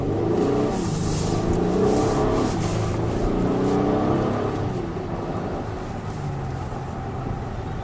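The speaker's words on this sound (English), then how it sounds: "The sound of this engine and the feel of this engine." A 2021 Acura TLX engine hums and climbs in pitch as it accelerates, a continuous steady roar heard from inside the vehicle with no talking.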